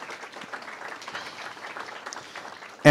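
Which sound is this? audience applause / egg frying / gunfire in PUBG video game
audience applause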